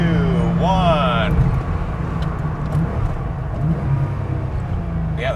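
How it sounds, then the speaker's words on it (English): An air-cooled Porsche 911 fitted with GT3 Cup suspension brakes hard while its engine rumbles and drops in pitch, loud and close inside the car, with voices talking near the start. "Nobody behind you, so try a good hard brake here"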